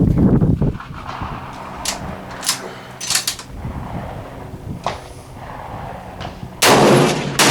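A Noveske AR rifle fires single shots outdoors, sharp loud cracks spaced irregularly a second or so apart, with a final heavy blast near the end and little talk.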